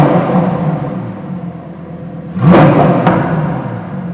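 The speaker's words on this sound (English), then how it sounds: "now I'm gonna put it into sport mode" Lamborghini Huracan Sterrato engine in sport mode: a steady exhaust drone that swells into a loud, sharp rev about halfway through, with a second brief blip shortly after, then settles back to a strong idle rumble.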